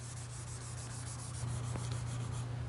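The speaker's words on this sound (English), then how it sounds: "buff it with a fresh white pad. The way we're going to do that is we have our fresh white pad. We're just going to gently move back and forth." A white pad buffs OSMO finish on wood with gentle back-and-forth strokes, a steady close rubbing hiss over a low constant hum, without talk.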